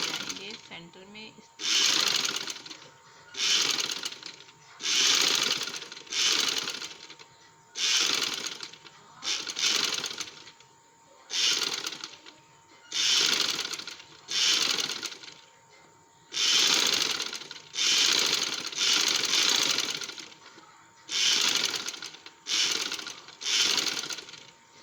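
A sewing machine stitches trouser pleats in repeated short bursts of rapid clatter, each a second or two long, separated by brief pauses, close and clear.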